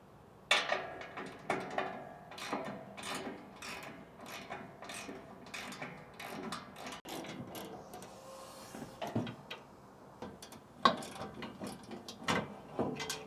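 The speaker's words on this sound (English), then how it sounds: "So we'll be removing these bolts once we remove the spoiler section off the back." Ratcheting and clicking of a hand tool loosening bolts on the rear spoiler of a Toyota Tacoma, a steady run of sharp mechanical clicks in quick bursts with small knocks and clatter, close and fairly quiet.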